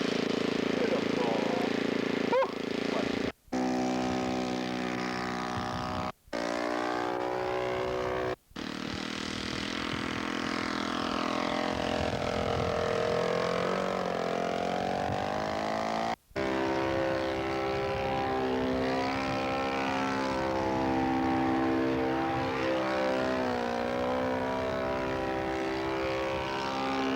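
A radio-controlled scale model airplane with a propeller engine flying at a show, a loud sustained drone that rises and falls in pitch as it passes and banks, briefly cut a few times, with some talk nearby.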